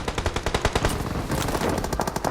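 Heavy automatic gunfire in the mobile game PUBG Mobile, loud, rapid bursts of shots in a dense, continuous volley, close and overlapping, with no voices.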